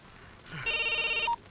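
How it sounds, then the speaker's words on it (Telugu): A telephone rings once, a bright electronic ring lasting well under a second and loud against a quiet background. "ఏదో ఫోన్ వచ్చింది"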